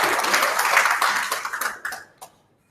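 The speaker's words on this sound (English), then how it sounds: "maybe round of applause to having all of you here" An audience gives a round of applause at a higher-education talk, a dense burst of many hands clapping that thins out and trails off into a few last claps before silence.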